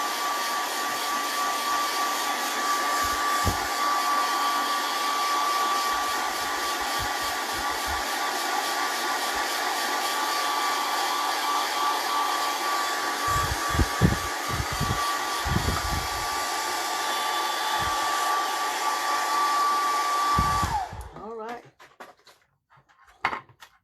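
A hair dryer blows steadily and loudly on a tin can lid for about twenty seconds, with a few soft knocks and handling sounds, then cuts off abruptly, leaving a brief quieter stretch of clatter.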